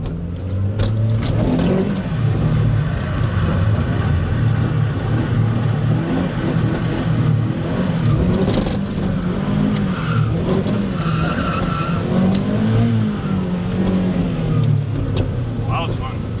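A Mazda Miata NB prepared for a drift event runs hard and loud at close range, its engine droning and revving under continuous tire squeal and skidding, with voices talking over it throughout.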